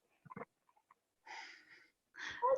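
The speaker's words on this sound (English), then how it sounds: "We've got another dog." A dog named Churro snorts and breathes close to a microphone, giving a few short wheezy puffs followed by two longer raspy snuffling exhales, quiet and isolated against silence.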